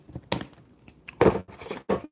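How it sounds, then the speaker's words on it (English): Yellow watermelon being chewed close to the mouth, a few wet, crunchy bites in separate bursts with quiet gaps between them. "Y'all probably hear me chewing."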